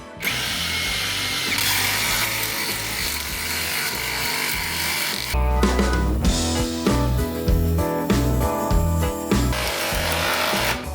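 An ELTOS AG 600 UBL cordless impact wrench driving a 300 by 12 lag bolt into wood, set to third speed, gives a loud continuous whirr that shifts into heavy, rapid hammering impacts.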